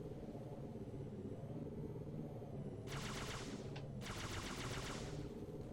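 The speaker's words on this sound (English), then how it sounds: "the Ghost shoots kind of like a hybrid of Halo 1 and 2, because it's like it still has the classic both cannons shoot at the same time" Ghost vehicle cannons firing in the Halo 2 E3 demo video game, two sharp rapid-fire bursts roughly a second apart over a steady low engine rumble.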